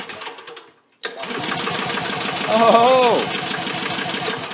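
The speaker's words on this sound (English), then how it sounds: "Let's see if it'll crank over without killing me." An Onan 3.0AJ-1R generator engine with no gas cranks over on its battery, a rapid, loud rhythmic chugging that starts after a brief pause and keeps going; a man exclaims once partway through.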